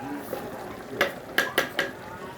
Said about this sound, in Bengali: এই যে এইটা কষাইয়া নিচ্ছি, দেখেন কীরকমভাবে মশলার থেকে তেল ছুটে গেছে